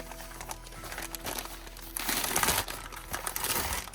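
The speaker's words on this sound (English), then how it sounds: "I love the way this paper sounds." Thin tissue paper rustles and crinkles close by as it is pulled apart for an art journal soft cover, growing louder and denser in the second half with no speech.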